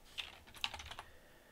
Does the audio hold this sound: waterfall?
no